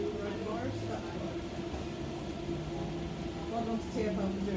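A DLR light-rail train runs between Shadwell and Canary Wharf in London, its steady rumble and hum of wheels and motors filling the carriage while people talk over it.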